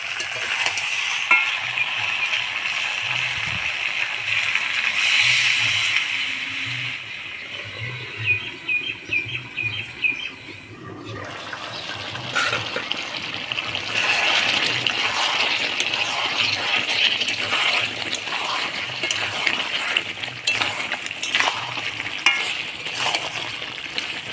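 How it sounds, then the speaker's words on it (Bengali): Desi chicken curry in a pan, coated in spices, sizzles steadily as a little water goes in and it is stirred, with the frying noise shifting and softening partway through, close and moderately loud with no talk. "সামান্য একটু জল দিয়ে ঢাকা দিয়ে দিব।"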